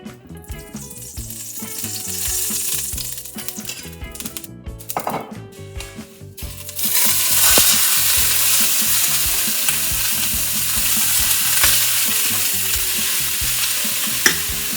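Frozen spinach hits hot olive oil in a pan, starting with scattered stirring and clatter, then bursting into a loud, steady sizzle with occasional scrapes and knocks, close and continuous with no talking.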